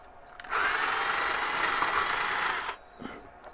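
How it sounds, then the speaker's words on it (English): A single steady burst of power drill whine lasting about two seconds, close and loud, then cutting off abruptly. "Got to drill some holes."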